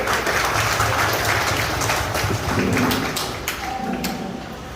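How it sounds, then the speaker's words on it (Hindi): A hall full of parents at a nursery-to-third-grade parent-teacher meeting bursts into loud, dense applause that runs steadily for several seconds before easing off slightly at the end. "एक जोरदार ताली अपने आप से।"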